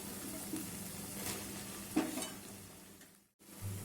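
Chapathi pieces sautéing with masala in a pan for chilli chapathi, giving a steady sizzle with occasional stirring scrapes, fairly soft and continuous and briefly dropping out near the end.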